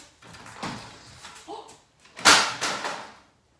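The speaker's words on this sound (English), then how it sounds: "the sliding door just fell off" A sliding door comes off its track indoors, with scattered knocks and rattles followed by a loud clattering crash, and faint voices around it.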